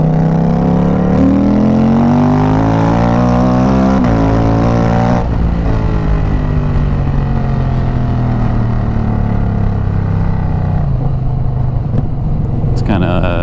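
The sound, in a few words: Indian Scout Bobber motorcycle engine revving while riding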